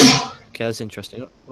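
A single sharp sneeze bursts out at the start, close and loud, followed by someone talking casually in a sports review chat.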